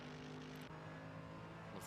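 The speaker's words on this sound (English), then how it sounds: "I do love the sound that AMG makes." Mercedes AMG GT3 V8 engine in a racing game at Mount Panorama, a steady, droning onboard engine note that holds constant with a brief shift partway through, moderately loud and without talk.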